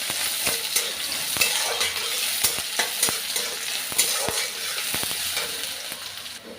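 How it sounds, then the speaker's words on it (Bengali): Chopped onions fry in oil for masoor dal, a loud, steady sizzle broken by frequent sharp spatula scrapes and taps against the pan. "এবার পেঁয়াজটা ভাজা হয়ে গেলে এর মধ্যে আমি ডালটা ঢেলে দেবো।"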